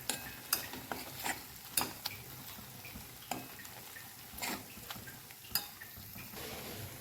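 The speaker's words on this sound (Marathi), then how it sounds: "याला आपण स्मॅश करून घेऊया." Onion-tomato masala mashed in a pan, with repeated sharp scrapes and taps of a utensil against the metal over a soft low sizzle, irregular strikes spaced about a second apart.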